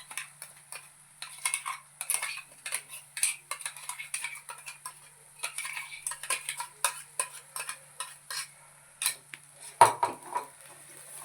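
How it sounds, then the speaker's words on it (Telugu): A spoon scrapes and clinks steadily against a metal pan while masala paste fries and is stirred for mushroom curry, with a faint sizzle beneath the repeated close scraping strokes and no talking. "ముందుగా మనం ప్రిపేర్ చేసి పెట్టుకున్నటువంటి ఈ మసాలాను కూడా వేసేసుకొని వేయించేసుకుందాం"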